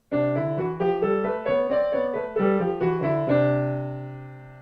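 Two voices sing stepwise notes together, one pitched a whole step away from the other, producing a clashing, slightly dissonant scale with sustained final note.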